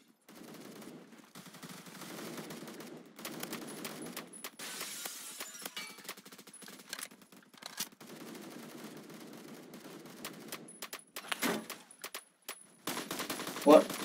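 Bursts of gunfire from the video game Phantom Forces on the Dunes map crackle in scattered rapid volleys, fairly quiet and spread through the stretch with pauses between.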